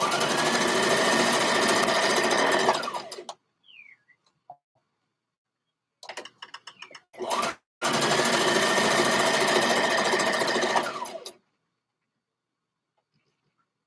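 Sewing machine stitching stretched knit fabric in two long, fast, steady bursts separated by a quiet pause with small handling clicks, close and clear.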